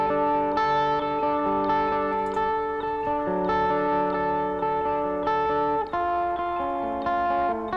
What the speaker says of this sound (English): is a Valhalla reverb, and here I'm turning it on and off